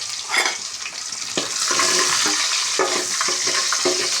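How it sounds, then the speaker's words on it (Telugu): Garlic fries in hot oil in a pan, a dense close sizzle punctuated by repeated scraping strokes of a spatula. "దాన్ని అంతా ఇప్పుడు నూనె కాగుతుంది కదా, ఆయిల్లో వేసుకొని బాగా ఫ్రై చేద్దాం"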